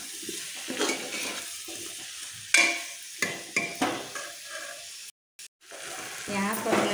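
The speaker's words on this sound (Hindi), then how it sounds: "अब सभी को मिक्स करके हमें थोड़ी देर भून लेना है।" Tomatoes and vegetables sauté in a pan for moong dal khichdi, sizzling close by under repeated spatula stirs and metal clinks, with a brief silent gap near the end.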